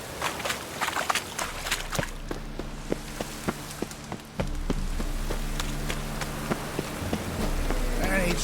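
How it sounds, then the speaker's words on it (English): Rain falls steadily in The Witcher 3: Wild Hunt, a dense patter with scattered sharp drop hits that grows heavier partway through and then swells again near the end, with no talk over it. "And it's raining again."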